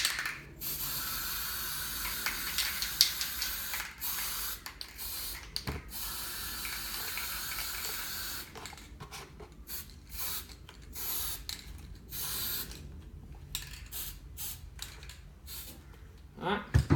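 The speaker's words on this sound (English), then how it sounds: "I'm going to just spray paint this." Spray paint hissing from an aerosol can onto an EVA foam Batman armour piece indoors, long close bursts broken by short pauses, with someone talking at times.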